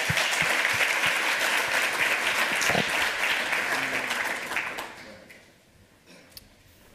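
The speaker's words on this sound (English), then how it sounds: "Give him a round of applause" A conference audience at a hacker congress lightning-talk session breaks into loud, dense applause that holds steady for several seconds, then thins out and fades to near quiet, with a single sharp tap near the end.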